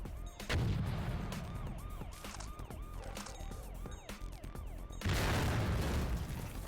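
Shotgun blasts in a Windows 98 first-person shooter game, with two loud bursts near the start and end and a busy run of game sound effects and music between them.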